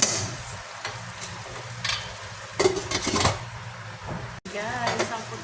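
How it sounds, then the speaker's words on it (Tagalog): Chicken sautéing in a hot pan, a steady close sizzle with intermittent scraping and stirring, and a brief sharp clatter near the end. "Sasangkot ko na yung ating chicken."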